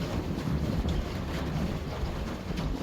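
Steady wind gusts on a shanty boat out on open water ahead of a cold front, a loud broadband rush buffeting the microphone with faint water noise beneath, no voices.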